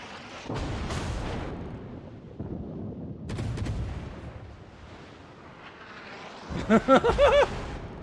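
Naval gunfire in the World of Warships video game, with several low, booming salvos spread across the stretch, rumbling at mid distance and ending in a louder burst of sharp reports.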